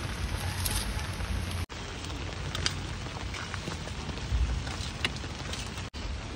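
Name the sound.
heavy rain falling outside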